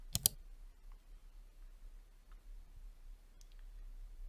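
A sharp double mouse click on a button lands right at the start, close and crisp, followed by near silence with only faint ticks.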